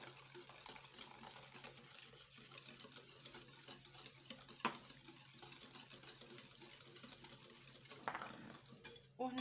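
Yogurt, milk and other ingredients are mixed in a bowl for basbousa, a quiet scraping and clinking of a utensil against the bowl in irregular strokes, faint and close.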